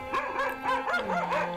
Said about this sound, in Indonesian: Ketika suara lolongan panjang anjing hutan ikut memikat kesyahduan malam.